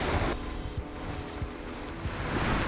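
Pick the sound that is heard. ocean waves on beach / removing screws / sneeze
ocean waves on beach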